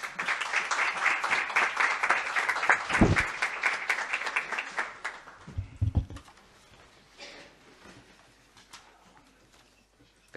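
Applause at a municipal council plenary session in Amposta welcoming a new councillor: dense clapping for about five seconds, a few louder claps, then fading to quiet room noise.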